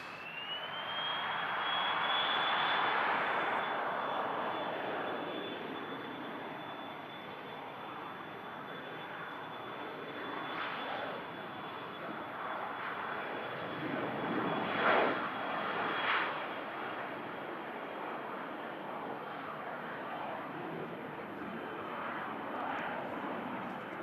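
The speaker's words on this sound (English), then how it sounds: "So this Falcon is going to be first to depart" A Falcon business jet departs Manchester Airport, its engines a loud, steady roar with a rising high whine at the start, holding strong and then swelling again mid-way without any voices.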